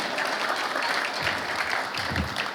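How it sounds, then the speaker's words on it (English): Steady applause from a crowd at an Escondido city council meeting, loud and continuous throughout, without any clear speech. "The person clapping is Mr. Brad Manning"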